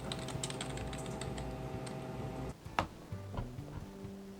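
Rapid, close clicking of a computer keyboard as a search is typed, then a pause and a few slower, separate key taps.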